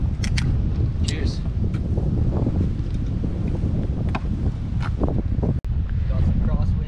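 Gusty wind buffeting the microphone on a British Columbia golf course, a loud continuous low rumble with crackling bursts throughout, a sharp click near the end.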